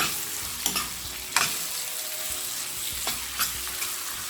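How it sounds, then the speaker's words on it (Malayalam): Ground amla (gooseberry) chutney frying in a pan over medium to low flame, a steady close sizzle broken by a few distinct scraping stirs of a spoon. "മീഡിയം ടു ലോ ഫ്ലെയിമിലിട്ടിട്ട് ഒരു 5-6 മിനിറ്റ് ഇതിലിട്ട് നന്നായി ഇളക്കിയെടുക്കണം."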